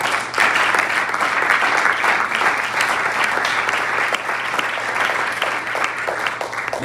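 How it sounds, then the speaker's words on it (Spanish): A church congregation applauds loudly and continuously during a Spanish-language service, a dense wash of clapping with no speech. "Dele palmas a Cristo."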